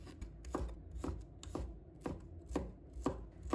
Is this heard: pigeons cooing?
no